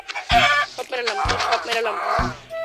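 Minecraft chickens cluck in short bursts, with a few abrupt low thumps between them.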